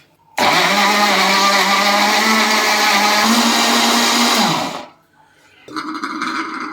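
A blender whirs loud and steady for about four and a half seconds, mixing a marinade of white vinegar, salt and black pepper for pan-grilled chicken, then cuts off abruptly, followed by a brief quieter clatter.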